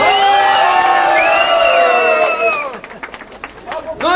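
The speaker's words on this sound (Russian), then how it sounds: "Аплодисменты!" Wedding guests cheer loudly with raised voices, then break into scattered clapping that tapers off toward the end.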